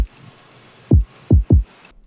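Three deep, booming kick drum hits land in quick succession over a faint, airy wash of sidechained ambience that ducks around each hit, in a lofi hip hop beat.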